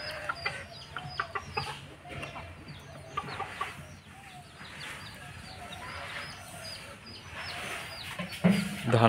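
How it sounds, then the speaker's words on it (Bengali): Desi chickens on a farmyard cluck and chatter nearby in short repeated calls over a quiet background, with a louder burst near the end. "এদিকে দেখুন আমাদের মুরগিগুলো কি করতেছে"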